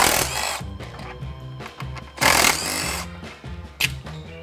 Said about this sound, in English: you can go ahead and unbolt your degas bottle